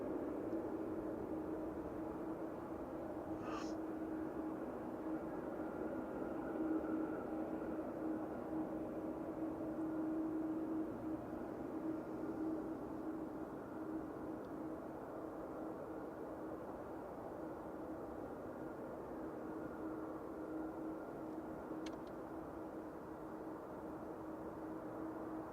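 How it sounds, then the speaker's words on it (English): A Ryanair Boeing 737 MAX 8-200 arriving from Lisbon on short final into Manchester Airport produces a steady, distant jet drone with a low tonal hum, holding constant throughout. "Ryanair from Lisbon just on short final here. It's a Max 8 200"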